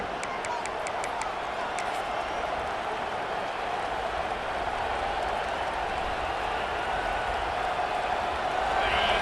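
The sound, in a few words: stadium crowd noise in College Football 26 video game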